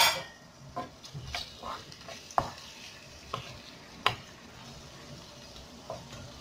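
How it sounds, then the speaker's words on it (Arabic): Onion cooking with raisins, a cinnamon stick, ground cinnamon and a ladle of broth in a pot for Moroccan couscous tafaya; a soft, steady sizzle carries irregular close clinks and scrapes of a spoon against the pot. "وصافي غادي نخلي البصله تطيب مع الزبيب."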